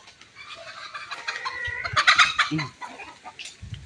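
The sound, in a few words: chickens clucking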